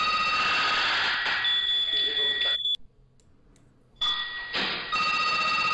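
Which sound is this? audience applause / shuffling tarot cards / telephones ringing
telephones ringing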